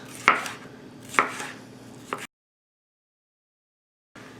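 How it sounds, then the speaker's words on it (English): A knife chops through a pepper cut into strips for cheesesteaks, three crisp cuts landing roughly once a second, close and clear, followed by a silent gap and a faint return of room noise. "And then I'm just going to cut these in strips."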